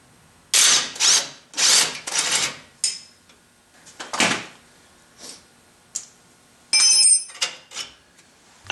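Power tool removing the upper retaining bolt on a Ford Explorer's upper ball joint, several short loud bursts with pauses between them, followed by a few quieter clicks and brief ratcheting sounds.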